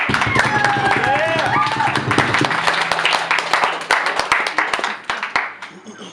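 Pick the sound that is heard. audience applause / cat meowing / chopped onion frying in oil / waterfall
audience applause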